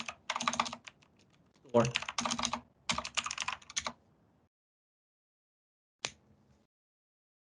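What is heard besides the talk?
typing on a computer keyboard into a browser tab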